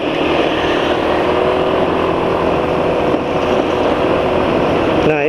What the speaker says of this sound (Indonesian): Kalau habis jalan 50 suara mesin jadi halus